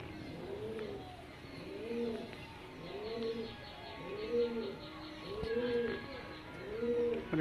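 Repeated pigeon coos, six or so evenly spaced calls, sound close by at a pigeon sale in Behala, with faint background chatter.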